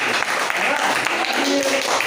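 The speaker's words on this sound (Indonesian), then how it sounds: "Oke, tepuk tangan buat kelompok" A classroom of students claps for a student group, a short dense burst of applause that runs continuously and mixes with chatter from the room.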